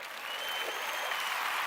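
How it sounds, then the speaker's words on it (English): A small round of applause from a few people while someone is moving into a new flat, steady and fairly close, filling the whole moment with no talk over it. "That gets a little round of applause."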